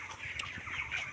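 Two chickens on a small poultry farm clucking close by, with a quick run of short, overlapping clucks and squawks over about a second.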